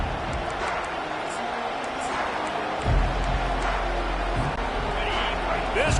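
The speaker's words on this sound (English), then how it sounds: "This crowd bringing the energy and noise early." Big crowd roaring at a college football game in a stadium, Stanford hosting Purdue, a steady broad wash of cheering and babble that swells louder about halfway through.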